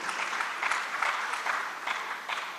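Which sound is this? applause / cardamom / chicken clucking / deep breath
applause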